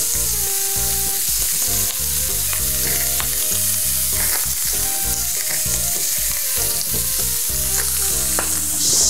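Potato slices frying in a pan, a continuous loud sizzle with crackling and stirring clatter throughout.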